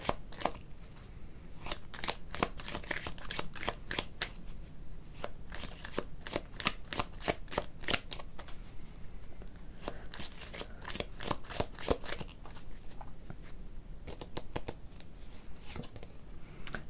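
Tarot cards shuffled by hand, a long run of rapid, crisp riffling flutters and slaps that repeat steadily up close, with brief pauses between bursts and no talking.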